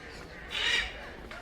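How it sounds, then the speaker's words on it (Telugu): A single harsh bird call, crow-like, rises briefly out of quiet outdoor ambience at Kothwalguda Ecopark, Hyderabad, fairly near and moderately loud. "పక్షులు అరుపులు పడుతున్నాయి"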